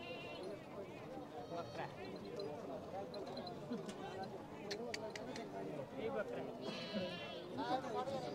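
Goats bleat at a crowded goat market, short wavering calls rising over constant loud chatter of many people nearby.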